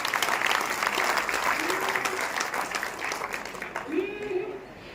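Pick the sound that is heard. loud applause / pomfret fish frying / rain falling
loud applause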